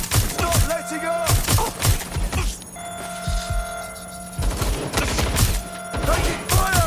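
Bursts of gunfire in the video game Watch Dogs: Legion, loud repeated volleys separated by short pauses, with game voices and a ringing tone mixed in.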